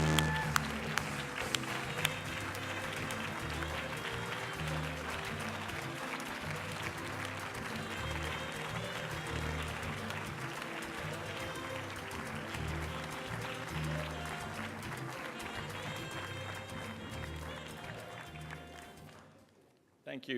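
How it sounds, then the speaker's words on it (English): A gala audience in Washington, D.C. applauds in a sustained, dense round of clapping that holds steady for about twenty seconds before fading out. "Let's give him a big round of applause."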